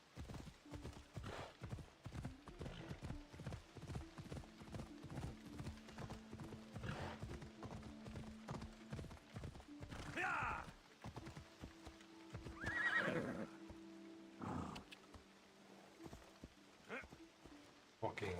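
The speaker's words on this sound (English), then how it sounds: "Fucking horse." Horse in the Assassin's Creed Odyssey video game gallops with a rapid, steady clip-clop of hooves and lets out loud neighs midway, heard alongside game effects.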